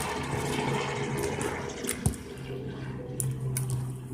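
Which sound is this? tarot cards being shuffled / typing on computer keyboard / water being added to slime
water being added to slime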